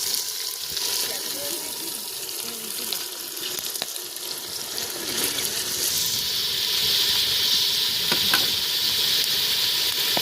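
Tomatoes fry in a pan, producing a continuous loud sizzle that swells and hisses brighter partway through, with stirring scrapes in the mix.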